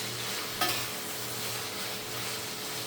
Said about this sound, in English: if you notice, I'm letting them fry up a bit